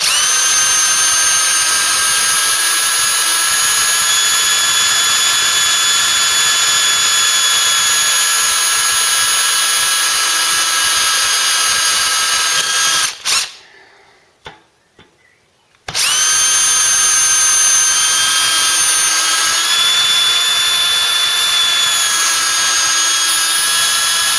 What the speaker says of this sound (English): Even that drill's starting to lose its power, sharpness.